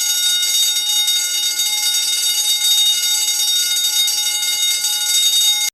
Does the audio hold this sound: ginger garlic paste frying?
no